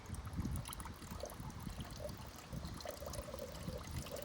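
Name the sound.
pouring strong pool chemical slowly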